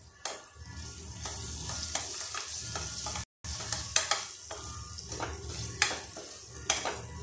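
Chili powder sizzling in hot oil with broken-down tomato for South Indian rasam: a steady close frying hiss with spoon stirring clinks and scrapes, briefly cut off midway.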